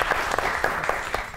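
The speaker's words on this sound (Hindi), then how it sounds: "सबसे पहले इनके लिए बहुत सी तालियां होनी चाहिए" Studio audience on a talk show breaks into applause, a short burst of clapping with a few sharper claps standing out, filling the room for just over a second.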